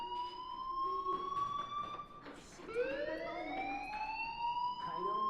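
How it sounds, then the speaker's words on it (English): A fire alarm in the video game Life is Strange sounds with a loud, rising electronic whoop that repeats and sweeps upward, with faint voices in the background. "do you hear that fire alarm?"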